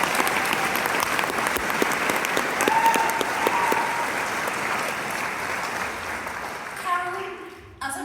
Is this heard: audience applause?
yes